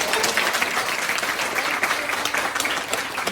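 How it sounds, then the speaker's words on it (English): Steady, dense applause from an audience at a winter bazaar cooking demonstration in Oslo, honoring the assistant who helped prepare nasi goreng; continuous broadband clapping, loud and even, with no talk over it. "So everyone, a round of applause for our assistant."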